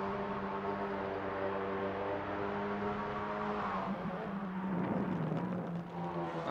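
Racing-game cars slipstream down a long straight, engines holding a loud sustained high whine with layered tones, one car close behind another, before a shift in pitch as they ease off near the end, with a commentator talking over it.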